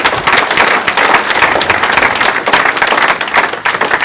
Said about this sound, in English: Let's just give a round of applause to all the first responders in the United States